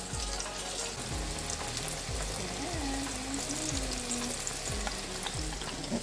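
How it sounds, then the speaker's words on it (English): Walleye fillets sizzle and crackle loudly in hot grease, with a few soft clanks of a utensil against the pan. "We frying, honey."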